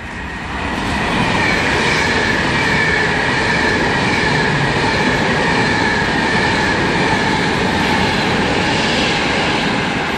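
A passenger train rumbles steadily through Liverpool South Parkway station at close range, wheels rattling and clattering loudly for the whole stretch with no voices.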